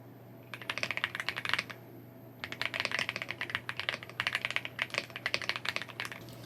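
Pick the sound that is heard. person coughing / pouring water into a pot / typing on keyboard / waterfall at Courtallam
typing on keyboard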